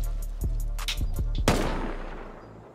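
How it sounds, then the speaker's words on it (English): AK turret firing in a raiding video game: a quick run of four sharp gunshots, the last one loudest with a lingering decaying echo. "It was an AK turret."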